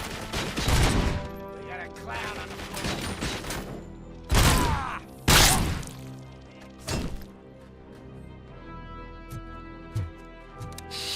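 Gunfire in RoboCop: Rogue City, with several sharp, loud bursts of shots standing out over a steady game soundtrack, spaced irregularly across the stretch.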